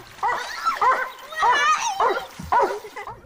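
A real dog barking and yipping in short bursts close by, with whimpering tones between the barks.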